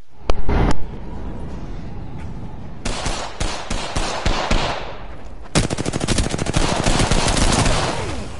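Rapid bursts of automatic gunfire from a video game battle, opening with a few sharp shots, then steady loud rattling volleys that grow denser and continue almost nonstop to the end, with no voices.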